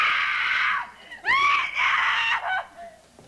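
A woman's shrill, drawn-out scream fills the room, rising and wavering, then breaks off into shorter cries and gasps, the kind of piercing shriek heard in low-budget horror films.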